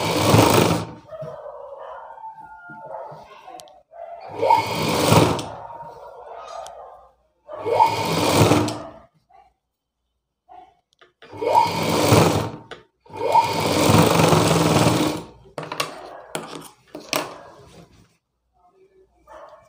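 A sewing machine stitching a blouse piece runs in several loud bursts of a few seconds each, whirring close up with short quiet pauses between runs and no talking.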